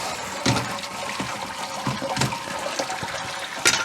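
Wort drains from a lifted grain basket in a Kegland all-in-one brewing system while brewing a NEIPA, a close steady pouring and splashing of liquid with a few louder sloshes.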